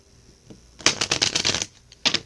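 Cards are riffle-shuffled up close in a quick fluttering burst, followed by a short second riffle after a pause.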